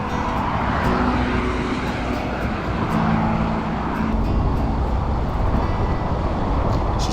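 Busy traffic at the Cedar Avenue crossing in Apple Valley rumbles past in a continuous loud roar, engines and tyres blending into a steady wash of passing vehicles.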